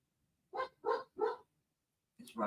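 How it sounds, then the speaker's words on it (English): A dog barks three times in quick succession, then twice more after a short pause, moderately loud indoors with no other sound between barks. "Sorry if you guys can hear my dog barking."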